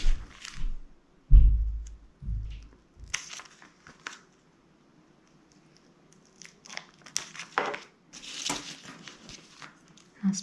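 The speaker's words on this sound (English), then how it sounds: "A trick I like to use to help the plastic fold over neatly is at each corner make a diagonal cut" Scissors snip diagonal corners into plastic laminate for a pressed flower bookmark, giving a few close crinkling, crunching cuts with quiet pauses and light rustling of the sheet.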